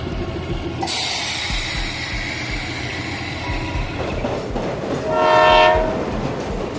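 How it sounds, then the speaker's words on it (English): A mountain toy train rumbles steadily with rhythmic wheel clatter, and a loud horn blast rises near the end. "The famous toy train, painted in green and yellow, still chugs slowly up the mountain each day"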